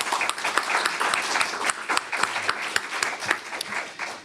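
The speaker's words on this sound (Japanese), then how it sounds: "皆様、もう一度ご登壇の皆様に拍手をお願いいたします。" Applause from the audience closes a session at the Robot Revolution and Industrial IoT International Symposium 2025; many hands clap briskly in a dense, lively burst that gradually thins out.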